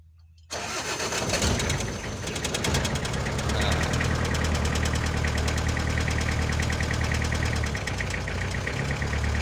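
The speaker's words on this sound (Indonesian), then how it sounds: "Sekarang saya coba mesinnya bagaimana" A Toyota Hiace long-chassis van's diesel engine cranks and starts after a brief silence, then settles into a steady, loud, rattling idle close by.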